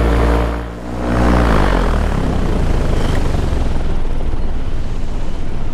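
Loud, steady droning buzz of a Fresh Breeze Top 80 paramotor engine in flight, heard close with constant wind rush and a brief dip in level early on.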